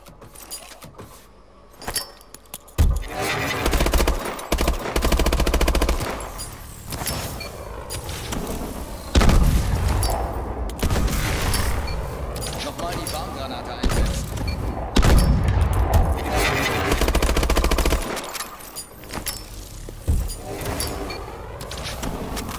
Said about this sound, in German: Wirf eine intelligente Granate und visiere ein Ziel an, um sie zu lenken.